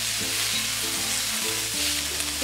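Sprouts tossed into hot oil in a pan over a high flame give a loud, dense, continuous sizzle with stirring throughout, and background music plays underneath.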